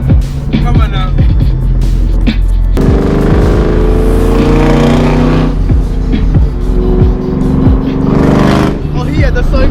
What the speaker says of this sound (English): V6s. No hate, but he's trying to rev